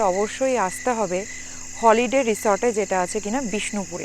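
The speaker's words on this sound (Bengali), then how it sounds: "তোমরা শুনতেই পারছো যে ইভিনিং একটা ঝিঝি পোকার ডাক" Crickets chirp in a steady high-pitched drone on an evening at a holiday resort in Bishnupur, Bankura, continuous beneath someone talking up close.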